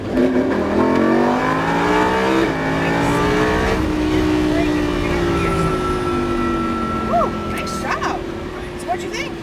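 A Lamborghini Huracan accelerating over a crest on a race track, engine note climbing loud and close, with voices talking over it inside the car.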